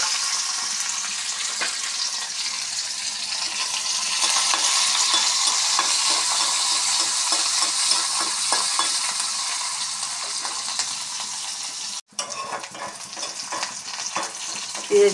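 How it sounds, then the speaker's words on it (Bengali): Onions and green chillies fry in hot oil for a Bangladeshi dried-fish chutney, giving a steady close sizzle with faint stirring scrapes, a brief cut near the end, then renewed crackle. "পেঁয়াজগুলো ভাজা হয়ে আসলো"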